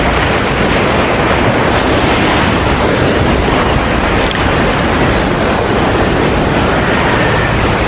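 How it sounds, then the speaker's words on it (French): A loud, continuous roar of ocean surf and breaking waves at Kochi, Kerala, India, close and unbroken, with wind noise mixed in. "C'est étonnant de voir ces vagues qui viennent de je ne sais pas où."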